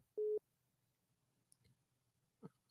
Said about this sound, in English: I don't know why my phone hung up.